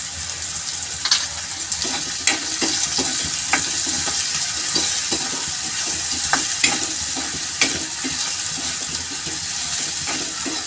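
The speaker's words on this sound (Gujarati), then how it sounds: "અને આ રીતે હલાવ હલાય જ કરવાનું જ્યાં સુધી થોડું કડક ના થાય ત્યાં સુધી" Bitter gourd peels fry in a hot pan with salt, turmeric and chili, a loud continuous sizzle broken by repeated scraping knocks of a spoon stirring them, close up and with no voices.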